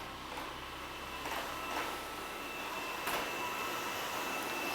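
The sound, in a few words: Dreame Bot W10 robot vacuum mop cleaning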